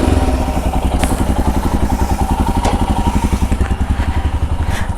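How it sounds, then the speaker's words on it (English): Royal Enfield Himalayan BS6 motorcycle engine running at idle close by, a steady low rhythmic thumping pulse with light mechanical clatter, no voices. "I'll start the bike and keep it in idle."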